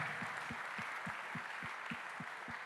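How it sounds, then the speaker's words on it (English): Audience applause at a charity event right after a live auction closes, a steady wash of many hands clapping, with a few louder, rhythmic claps standing out at a regular beat. "give yourselves a round of applause"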